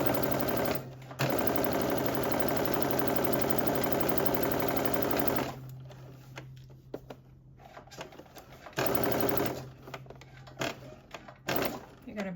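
A sewing machine stitches the side seam of a sweatsuit in one long, steady whirring run. It stops, then gives short bursts of stitching, with a voice speaking nearby between them.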